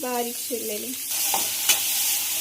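Chopped onions go into a pan of frying garlic for masala prawns, starting a bright steady sizzle with a stirring scrape; someone speaks briefly at the start.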